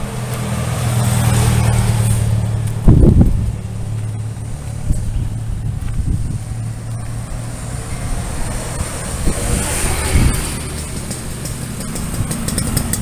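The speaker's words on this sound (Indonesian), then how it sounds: "Mesinnya juga halus, mantap-mantap." A restored, classic-modified Yamaha V80 motorcycle idles smoothly and steadily nearby, a low even engine hum with a few small revs and knocks along the way.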